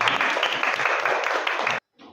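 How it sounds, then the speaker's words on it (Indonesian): A group claps hands together during an Asmaul Husna lesson, producing a dense, even burst of applause that holds steady, then cuts off abruptly before a brief faint resumption. "Oke, tepuk tangan untuk kita semua."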